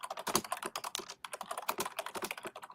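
Rapid clattering keystrokes on a computer keyboard fill the whole stretch, close and fairly loud, in an uneven typing rhythm with one brief pause.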